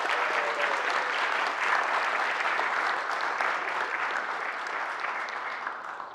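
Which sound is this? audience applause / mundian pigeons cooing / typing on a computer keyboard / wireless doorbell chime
audience applause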